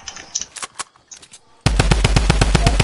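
Gunfire in Fortnite: a few scattered shots at a distance, then a sudden loud, sustained automatic burst of rapid, evenly spaced rounds that continues to the end.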